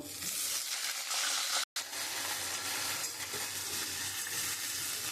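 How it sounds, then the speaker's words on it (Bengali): Eggplant and potato pieces frying together in a pan with bay leaf, dried chilli and nigella seed tempering, a steady close sizzle with faint stirring, broken once by a brief dropout partway through. "এবারে বেগুন আর আলু একসঙ্গে করে একটু ভেজে নেব"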